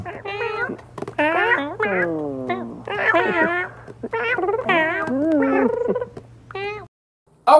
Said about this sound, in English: A clip from Simon's cat interrupt us again, but this time, it's the cute little kitten meowing at Simon.